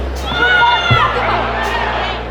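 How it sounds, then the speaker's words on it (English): A crowd yells and screams at the Hollywood Park horse races, with loud overlapping shouts and cheers close by that ease off slightly toward the end. "You will still hear people yelling and screaming."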